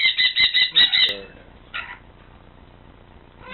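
A pet parrot at home gives a burst of loud, harsh squawking calls in the first second, then a brief quieter squawk follows, with a faint call near the end.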